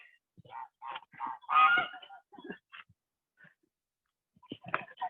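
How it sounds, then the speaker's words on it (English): Geese honk at a French wine estate, Domaine du Closel. There is a rapid series of loud, nasal honks from several birds nearby, a short pause, then another burst of honking. "These are my geese."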